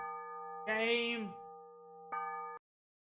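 A shame bell sound effect rings out in sustained, layered metallic tones. A voice briefly cuts in over it, then the bell strikes again and stops abruptly.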